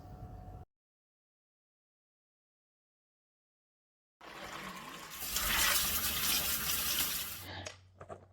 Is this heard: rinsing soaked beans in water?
yes